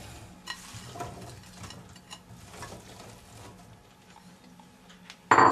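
Chopped onion sizzles and is stirred in oil in a frying pan, a steady low crackle with scraping strokes throughout, ending in a sudden loud clatter.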